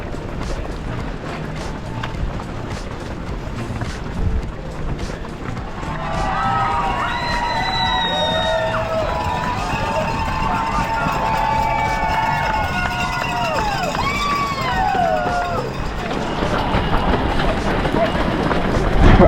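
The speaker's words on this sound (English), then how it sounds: "Despite the rain, the crowd have turned up." Spectators cheer and shout along the rainy course of the Great North Run half marathon, a steady outdoor crowd roar that swells over time, with whistles and calls rising above it and runners' footsteps and voices mixed in.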